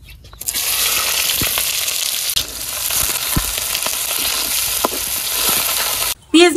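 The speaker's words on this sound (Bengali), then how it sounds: "কড়াইতে তেল দিয়ে দিলাম, কাঁচামরিচ আর পেঁয়াজ কুচি দিয়ে দিলাম।" Chopped onion and green chilies hit hot oil in a wok (karai) and sizzle hard and steadily up close, with faint stirring scrapes underneath. A brief lull comes just before the end.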